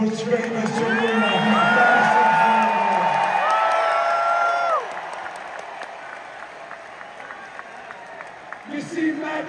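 Sold-out Madison Square Garden wrestling crowd at a WWE SmackDown event cheers, whoops and applauds loudly for about five seconds, then fades to a quieter murmur of scattered claps and shouts.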